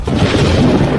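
A loud, dense blast stands in for a lightning strike in an animated fantasy scene, a deep rumbling boom sustained for about a second with no talk over it.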